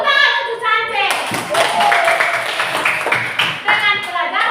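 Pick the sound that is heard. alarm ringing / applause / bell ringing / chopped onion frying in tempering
applause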